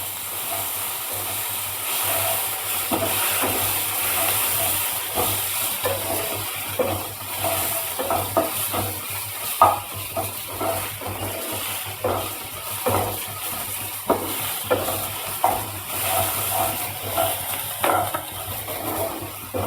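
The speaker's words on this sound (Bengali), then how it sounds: "এবার আমি এর মধ্যে দিয়ে দেবো চপিং করা ম্যাঙ্গো।" Chopped mango tumbles into spices and dried red chillies frying in a pan, with a steady steamy hiss and sizzle broken by repeated scraping stirs and clinks throughout.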